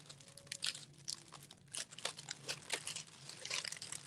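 Backing peeled from a diamond art canvas: close crinkling and crackling of plastic film in uneven bursts, quiet and near, with no talking.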